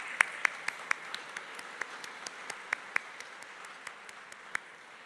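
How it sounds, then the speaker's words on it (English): Sparse, thin applause from an audience at a press club awards dinner: a handful of separate, crisp claps at an irregular pace in a quiet room, no voices over them. "You're not going to get away with that little bit of applause."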